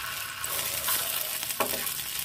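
Semolina and vegetable breakfast pieces shallow frying in a pan give a constant loud sizzle and crackle close up, with a brief stir partway through and no voices.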